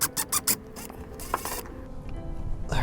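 A screwdriver works a small trim screw on a Lexus GX460 rear door license plate trim, giving a quick burst of close ratcheting clicks at the start, then faint scraping and turning noises.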